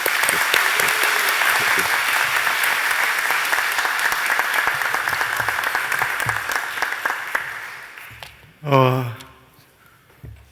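A church congregation at a joint revival meeting in Ganggyeong applauds loudly and steadily for about eight seconds, then the clapping stops and a voice briefly speaks.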